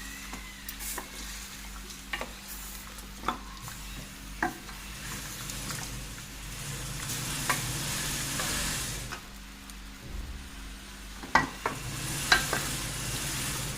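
Beef nihari frying in a pot over raised heat, a steady sizzle broken by occasional stirring scrapes and knocks against the pot, moderately close, with no one talking.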